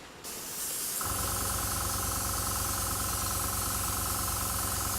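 An airbrush lays a light coat of paint onto a 1/9 scale ED-209 model, starting with a soft hiss and then settling into a loud, steady spray with a constant buzzing compressor tone underneath.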